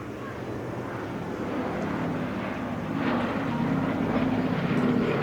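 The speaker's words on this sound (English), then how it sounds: "The sole airworthy B-17 Flying Fortress currently extant in Europe." The sole airworthy B-17 Flying Fortress bomber in Europe flying at the Duxford Autumn Air Display 2011, a low piston-engine rumble that swells gradually as it approaches, with a voice talking over it.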